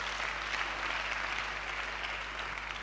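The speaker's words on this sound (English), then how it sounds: "So I want us to give a round of applause to ourselves for being here." Faint, distant clapping from an audience at an International Women's Day program, a steady low wash of applause over a constant electrical hum.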